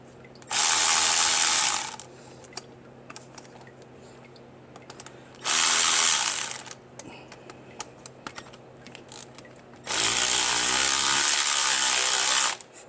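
Three bursts of power-tool whirring as a bolt is backed out near the power steering pump of a 2006 Dodge Ram 5.7L, close and loud, with an engine-like hum underneath and small tool clicks between the bursts.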